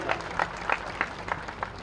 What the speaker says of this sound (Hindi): ताली वाली बजाते रहो भाई